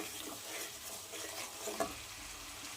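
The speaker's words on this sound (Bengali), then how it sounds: "এর সাথে আমরা আদা রসুন বাটাটা দিয়ে দেব" Ginger garlic paste fries in a pan with a soft, continuous sizzle and faint stirring, fairly quiet throughout with one small scrape near the end.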